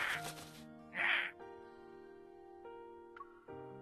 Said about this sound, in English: he opens his beak and loudly caws at me